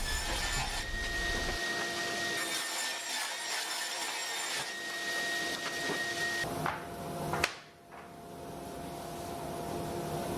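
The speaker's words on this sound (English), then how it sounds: "Then I could set the saw over to 45 degrees and rip one edge of all of the pieces" A bench saw rips timber boards, its steady motor hum carrying a sustained cutting roar that fades near the end, with a short sharp burst as the blade clears the wood before spinning down.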